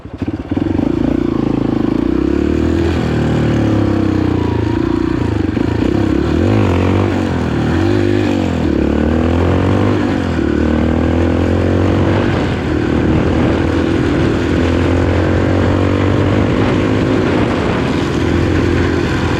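A motorcycle engine runs loud and close throughout on a by-pass road in San Pablo City, a continuous droning rumble with shifting pitch as it revs and labors.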